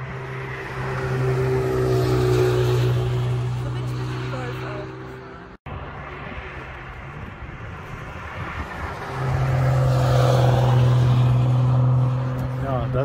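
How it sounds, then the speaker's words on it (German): Race cars crawling slowly toward the pit lane at the Nürburgring, a low steady engine drone that swells and fades slightly under continuous talk. "Das ist natürlich jetzt hier wirklich für alle Schleichfahrt. Alle fahren jetzt Richtung Boxengasse raus."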